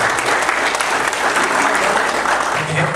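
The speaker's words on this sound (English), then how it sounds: "Yeah, you can clap for that, absolutely." Steady applause from a comic con panel audience at Niagara Falls Comic Con, dense and continuous throughout, a full crowd clapping together at close range with a faint murmur beneath.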